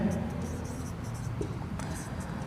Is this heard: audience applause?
no